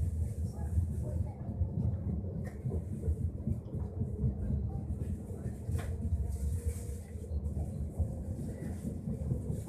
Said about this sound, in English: So, we are leaving the station now,